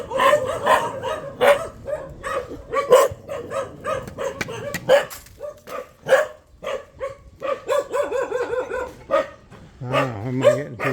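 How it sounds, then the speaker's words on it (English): Several dogs bark continuously nearby, overlapping yaps and barks with some higher whining tones, loud and insistent throughout. "I'm running a gauntlet of puppy dogs here"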